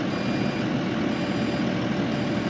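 An excavator's electronic warning beeps, signalling an unlocked coupler, over a steady, loud engine hum.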